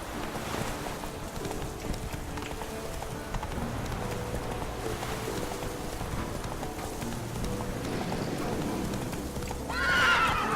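Roach, a horse in The Witcher 3: Wild Hunt, gallops with a steady run of hoofbeats, snorting and a neigh, while wind sweeps through and a louder burst of sound comes near the end.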